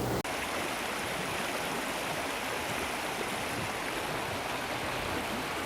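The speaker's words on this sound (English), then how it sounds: "Edmonton Stadium, Rogers Place, flooding during a huge storm" Floodwater rushes through an arena during a heavy storm, a dense, steady roar of moving water that fills the whole stretch without letting up and with no voices.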